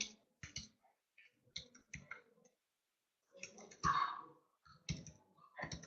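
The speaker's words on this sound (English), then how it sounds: "So I can simply type in here, Adam Banks," Close computer keyboard typing comes in irregular bursts of crisp key clicks, pausing briefly midway and then resuming, with no talk.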